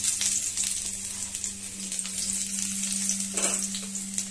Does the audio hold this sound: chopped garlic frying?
yes